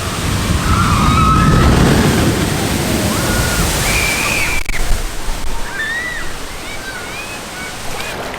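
Water splashing and misting at the Jurassic Park Splash Zone in Universal's Islands of Adventure, a loud continuous rushing spray with high squeals and crowd noise mixed in, strongest early and easing slightly later.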